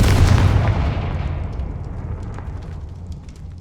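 Confringo fire spell cast in the video game Hogwarts Legacy, a single loud fiery blast that erupts at once and then decays into a long rumbling fade.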